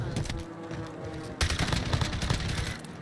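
Gunfire in Call of Duty Warzone comes as dense, rapid bursts of shots. It starts moderately, then turns louder and busier partway through, with rattling automatic fire continuing to the end.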